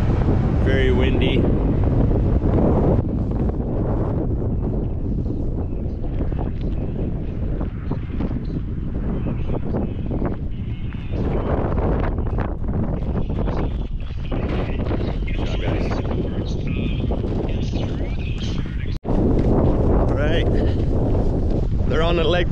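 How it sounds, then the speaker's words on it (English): Strong wind buffets a microphone outdoors at the finish of a marathon relay leg, a loud, continuous rumbling roar that runs the whole way with only a brief dropout near the end. "Very windy."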